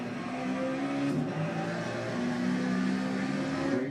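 Race car engine from the video game Forza Motorsport: a loud, continuous engine drone with shifting pitch as the car revs and holds speed, steady throughout with no talking.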